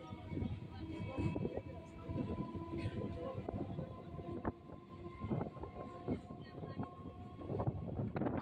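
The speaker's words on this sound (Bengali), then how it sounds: "এখন ট্রেন ঢুকছে হোটোর স্টেশনে।" A local passenger train rolls into Hotor station in South 24 Parganas, West Bengal, with a steady rumble and scattered clanks and squeals of wheels and carriages throughout.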